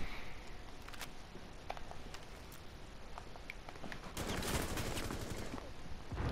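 Rapid gunfire in a shooter video game, bursts of sharp shots crackling over a dense noisy background, moderately loud and continuous.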